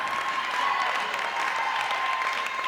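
A comedy club audience at a stand-up set breaks into steady, dense applause that holds at an even level for a few seconds, with no voices above it.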